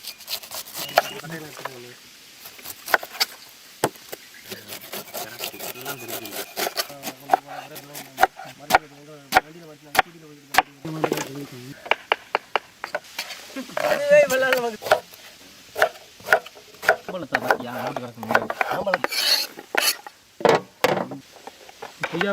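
Repeated knife chops on a board as fruit such as mango is cut, sharp clicks scattered through the stretch, under ongoing conversation between people nearby.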